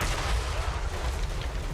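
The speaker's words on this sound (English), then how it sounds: "And my hell cannon will cause pretty extreme damage." Hell cannon artillery in Total War Warhammer 3, a dense, continuous barrage of deep booms and rumbling gunfire, loud and unbroken over the short stretch, with no talking.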